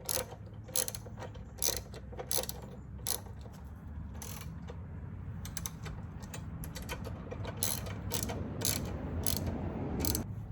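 Bolts being snugged up by hand on a Tusk pannier rack fitted to a Honda CRF300 Rally, with faint ratchety clicks and small metallic ticks in short bursts over a low background hum.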